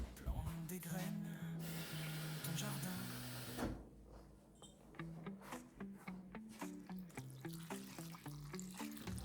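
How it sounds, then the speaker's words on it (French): Water poured into a roasting dish holding chicken pieces and vegetables, a trickling splash that runs steadily, close by, with a person talking over it. "Je vais rajouter de l'eau."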